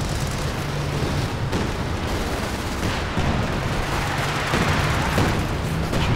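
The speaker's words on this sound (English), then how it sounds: "Barrage also not hitting much." Artillery barrage in Company of Heroes 2 during a 2v2 battle, a dense continuous rumble of blasts and gunfire with steady low booms throughout, busy and loud with no quiet gaps.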